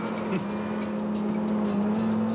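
A Ferrari engine holds a steady, loud drone throughout, with a brief pitch shift near the start, close and continuous with no talk over it.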